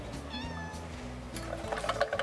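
A black cat meows in a home kitchen where chicken is being cooked in a tin, a few tonal mewing calls rising over steady kitchen background noise, close and moderately loud.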